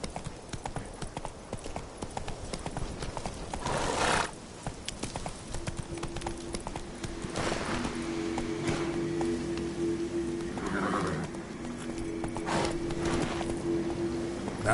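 Roach, a horse in The Witcher 3, gallops in a steady, rapid clip-clop of hooves over a soft rushing backdrop. A brief neigh rises partway through, followed by a few sustained tonal game sounds.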